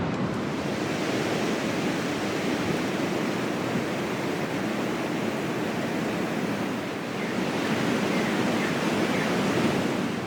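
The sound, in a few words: wind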